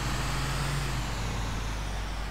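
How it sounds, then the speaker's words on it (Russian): Garbage truck in the video game Grand Theft Auto IV driving slowly: a dense, loud, steady engine drone and road roar, with a low hum that drops slightly after the first second. "Мусоровоз очень медленный вообще."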